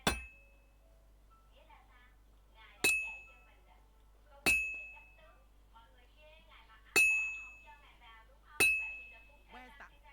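A blacksmith's hammer strikes metal on an anvil in the game Kingdom Come: Deliverance 2, with five sharp, ringing clangs spaced about two seconds apart and faint voices murmuring between them.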